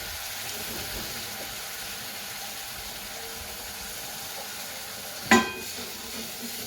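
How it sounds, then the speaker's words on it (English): Tomato puree hits a hot, smoking pan for rajma curry, giving a steady broad sizzle and hiss with one brief louder splash near the end. "now it's time to add in the tomato puree"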